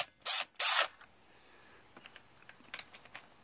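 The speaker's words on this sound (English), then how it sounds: "I figured I might as well just take off these bolts" Two quick, loud bursts from a power tool or ratchet backing out bolts on a Briggs & Stratton 20 HP opposed-twin mower engine with a thrown connecting rod, followed by faint scattered clicks and handling noises.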